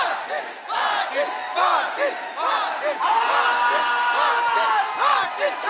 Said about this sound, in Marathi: हा सगळा जल्लोष पाटील पाटील अशा पद्धतीचा सगळा जो घोषणांचा आवाज आपण बघतोय